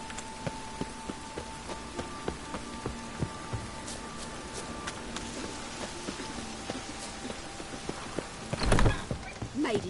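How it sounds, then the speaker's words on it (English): Rain in The Witcher 3 hisses steadily at a moderate level, with a regular clip-clop of hooves ticking through it and a louder rustling burst near the end. "It just rains and rains."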